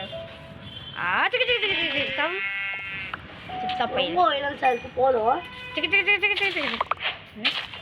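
Sheep bleat repeatedly in Minecraft, several wavering calls spread across the clip, loud and close, with a buzzy game tone under them.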